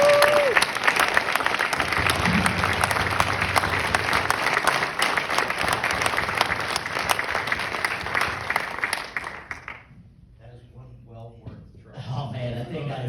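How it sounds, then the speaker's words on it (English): A room full of people applauding at a retirement celebration honoring 47 years with Prudential, sustained loud clapping for about nine seconds that fades and breaks off, followed by faint talk and a few scattered claps. "So one more round of applause for yourself."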